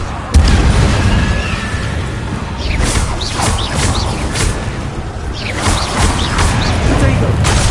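A Confringo fire spell explodes in Hogwarts Legacy, with loud booming bursts and crackling impacts repeating over a dense rumble while a player shouts spell names.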